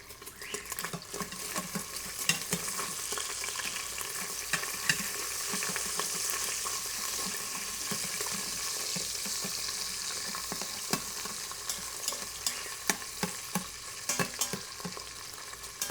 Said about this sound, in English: Now I'm going to keep letting the bacon go a little bit longer before I add the onion.